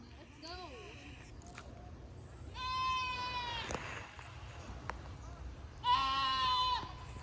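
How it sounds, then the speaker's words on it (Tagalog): A young goat on a rural lot in La Union, Philippines bleats several times, each cry a wavering, nasal call standing clearly above a steady outdoor background with voices nearby. "Bata kambing"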